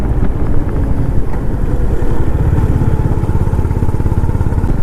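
A motorcycle rides a winding ghat section of road up Mullayanagiri hill in Karnataka, its engine a steady close rumble with wind buffeting throughout and no talking.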